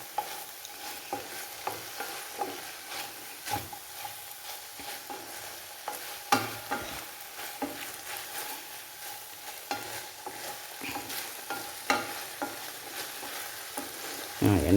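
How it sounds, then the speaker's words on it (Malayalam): A pea and plantain stir-fry (mezhukkupuratti) is stirred steadily in a large pan, with scraping and clanking strokes over a constant soft sizzle, close and fairly loud with no talking. "പാത്രം വലുതായത് കൊണ്ടാണ് ഞാൻ അതിനകത്തേക്ക് ഒഴിച്ചിളക്കുന്നത്"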